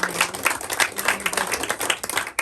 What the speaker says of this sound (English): Big round of applause for the show and tell, everybody